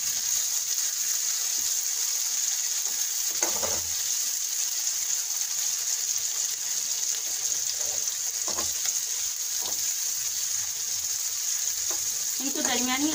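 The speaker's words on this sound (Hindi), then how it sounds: "इन मिर्चों को कुछ देर के लिए फ्राई करना है।" Green chillies fry in hot oil over medium heat, giving a constant bright sizzle with a few scattered stirring clicks and bursts of crackling, heard alone without speech.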